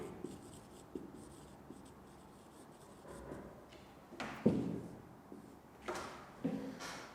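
Pen writing on paper while working out an accounting net profit calculation, with soft scratchy strokes and a few louder scribbles and taps, close and alone without talk.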